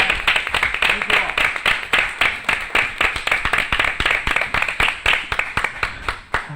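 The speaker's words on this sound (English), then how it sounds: "Let's give them a round of applause." Steady applause from a crowd at a Board of Education meeting, many hands clapping in a fast, continuous patter that carries on for several seconds before tapering slightly.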